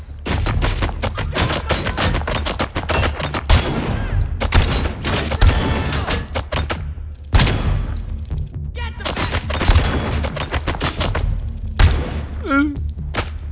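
Rapid, dense 12.7 caliber rifle gunfire in the Robocop Unfinished video game, loud continuous bursts with only brief gaps.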